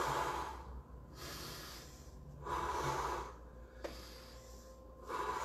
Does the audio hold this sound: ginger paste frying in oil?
no